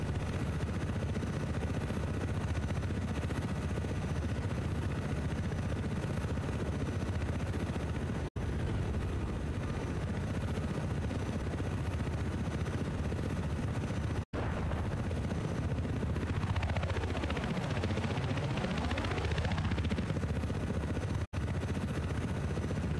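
In the Battlefield 4 video game, a helicopter's rotor drones continuously while sharp bursts of gunfire crack throughout, with a whooshing pass of an aircraft midway and no voices.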